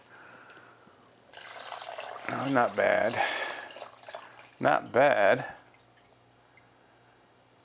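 Fresh coconut water pours from a cut coconut into a container in two gurgling bursts. A person talks quietly between them.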